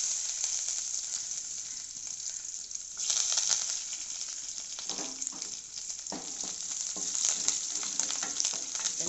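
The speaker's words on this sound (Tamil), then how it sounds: "வெங்காயம் வதங்கட்டும் வெங்காயம் வதங்கியாச்சு" Five small shallots, cut up and sautéing in hot coconut oil in a pan with a dried red chili, curry leaves and mustard seeds, a steady close sizzle broken by a few soft stirring scrapes.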